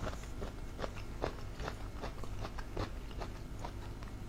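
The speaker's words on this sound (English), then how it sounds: "That's lotus root. It has a very crunchy texture to it" Repeated crisp crunching bites of lotus root, several in steady succession, close and fairly quiet, with no talking.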